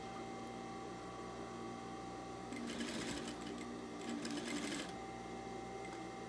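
A sewing machine stitches a fabric bunny, beginning with a backstitch; a faint motor hum carries throughout, with two short bursts of quick rattling stitching in the middle.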